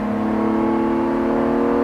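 A car engine on a race track holds a steady, loud drone as it accelerates under throttle, close and continuous with no talk over it.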